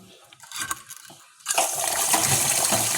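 Water dripping, with a few separate close drips and taps at first, then a sudden, steadier, louder run of splashing water that continues to the end.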